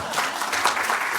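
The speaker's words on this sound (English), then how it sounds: "well, yeah, we can still clap for them anyways." A forum audience applauds, a short burst of steady clapping from a crowded room, moderately loud and alone without speech.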